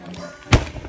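A bamboo cannon fires once in Trinidad and Tobago, a single sharp booming thud that rises suddenly and dies off quickly, with faint background murmur around it.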